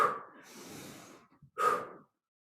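Two forceful breaths during a hand-weight push-up exercise, a long airy exhale followed by a shorter sharp one after a brief pause, close and clear with no talking.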